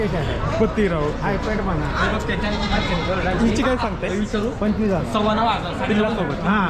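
Goats bleat again and again at a large goat and sheep market in Chakan, Maharashtra, the wavering cries overlapping close by over a steady crowd murmur and people talking.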